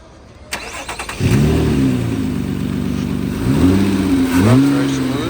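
A 2008 Nissan Altima with the 3.5L engine cranks briefly, catches and settles into a steady idle, then gives a couple of gentle rises in revs. The sound is loud and close, with no speech.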